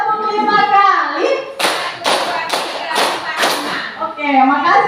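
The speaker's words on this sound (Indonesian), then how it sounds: "Tepuk 5 kali." A group of teachers and pupils claps five times in unison during a school class activity, five evenly spaced, sharp claps with speech before and after.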